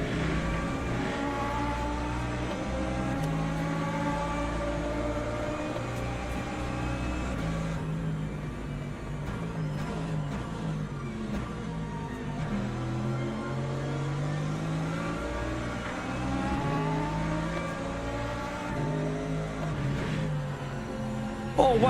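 LMP2 prototype race cars in Le Mans Ultimate drive past with sustained engine whine that climbs and falls in pitch through gear changes as they close in and pull away, loud and continuous.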